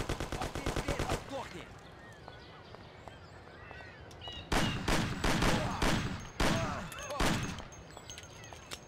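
Bursts of gunfire in the Mafia: The City of Lost Heaven video game: a rapid automatic volley at the start, then several loud clustered shot bursts later on, with quieter gaps between them.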